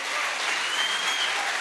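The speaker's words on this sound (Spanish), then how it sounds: "Así que dele un aplauso al Señor fuerte." Loud, dense applause from a church congregation, steady clapping that fills the whole moment without any talking over it.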